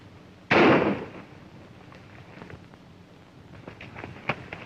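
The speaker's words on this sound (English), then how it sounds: "Did you fire that shot?" A single sharp gunshot in a 1936 western film, loud and close, followed by a short decaying tail and quiet room tone with faint clicks and rustles.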